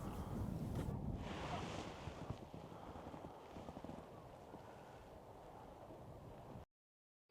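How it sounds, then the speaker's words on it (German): Ocean surf at the Fortaleza de Sagres, Portugal, rumbles and hisses in a muffled, hollow way through a natural hole in the ground as the tide comes in, a steady wash that swells at the start and then settles into a softer continuous roar. "Man hört das Rauschen der Wellen des Ozeans durch ein natürliches Loch im Boden"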